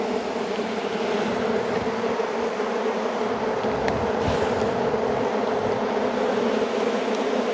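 Dense honey bee buzzing inside a crowded hive that is preparing to swarm, heard from close range in the lower boxes: a loud, continuous droning hum with a steady pitch and no talk.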